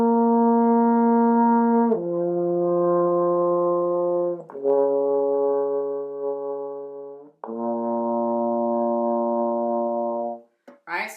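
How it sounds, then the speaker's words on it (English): Trombone playing a warm-up of slow, descending minor arpeggios, four sustained long tones that step lower one after another, rich and close, played alone with no talk. "So we're going to do our minor arpeggios going down."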